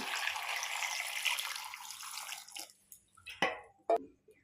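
Water pours steadily into a pressure cooker of small potatoes for a potato dum, a continuous splashing stream for over two seconds that then thins to a few separate drips and splashes.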